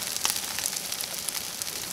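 Beet cakes frying in hemp oil in a pan, a steady bright sizzle with small crackling pops throughout, close and continuous.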